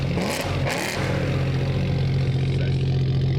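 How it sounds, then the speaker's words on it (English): A BMW M3 V8 engine drones steadily and loudly at a constant rev, with a strong low rumble and no talk over it. "A BMW M3 V8."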